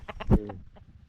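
A red-headed chicken clucks several times in short bursts, one louder call in the middle, close and fairly clear.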